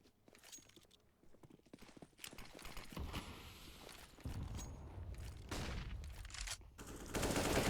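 A CZ pistol fires in Counter-Strike on Dust 2, a quick run of sharp shots followed by heavier, denser bursts of gunfire that grow louder toward the end.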